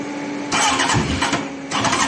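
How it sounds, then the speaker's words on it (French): An old barn-find vehicle engine cranks on its starter motor and fires into a loud, close, rough running burst that rises again near the end, with no talking. "Vous voyez, un coup de démarreur."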